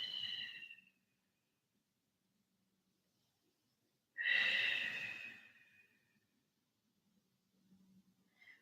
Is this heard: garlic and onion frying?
no